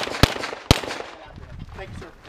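Two sharp, loud gunshots fired at an outdoor shooting range, about half a second apart, followed by a lingering echo and faint background noise.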